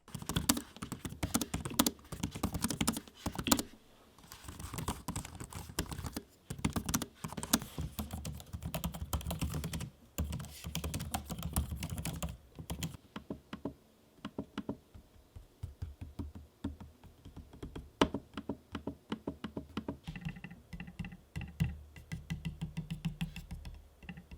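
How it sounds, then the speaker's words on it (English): Rapid typing on an HP ProBook 630 G8 laptop keyboard, a dense stream of close, crisp key taps, later thinning into sparser taps and trackpad clicks. "here's an audio sample of me using the keyboard and trackpad so you can see how they sound"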